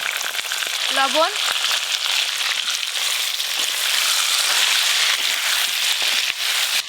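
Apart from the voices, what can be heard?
potatoes frying in hot oil for mutton curry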